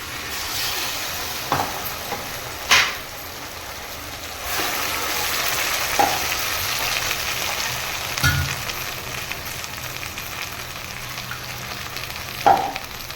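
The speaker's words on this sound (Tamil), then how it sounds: "வெங்காயம் சவுந்துருச்சு நம்ம இப்போ மசாலா சேர்த்துக்கலாம்" Masala frying together with sautéed onions for a vegetable kurma, a continuous loud sizzle punctuated by occasional spatula knocks and stirring scrapes, no voices.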